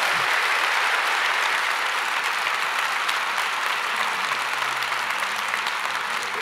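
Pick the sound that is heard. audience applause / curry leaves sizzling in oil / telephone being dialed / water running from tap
audience applause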